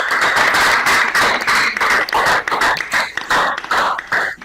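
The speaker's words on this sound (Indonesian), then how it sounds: "Tepuk tangan ya." Students clapping in a grade 7 classroom, a loud, close patter of many hands in quick uneven bursts that carries on for several seconds without speech.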